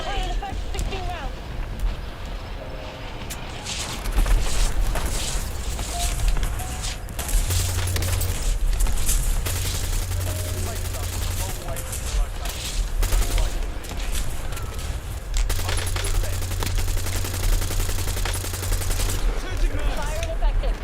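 In Call of Duty Black Ops 7 Zombies, an airstrike unleashes a loud, sustained barrage of rapid gunfire and booming blasts with low rumbling, while voices speak over the chaos.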